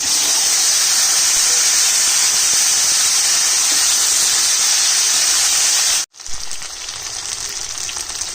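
Chopped mixed vegetables hit hot oil seasoned with panch phoron, bay leaf and dried chilli, setting off a loud, steady sizzle and hiss that runs for several seconds before abruptly cutting out and dropping to a quieter frying sound.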